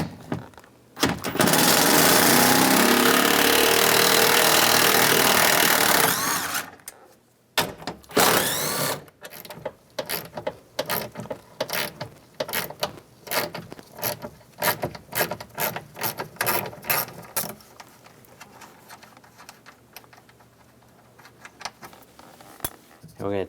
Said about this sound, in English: Using a 10mm socket, take these nuts off